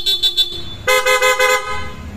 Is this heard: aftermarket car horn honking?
yes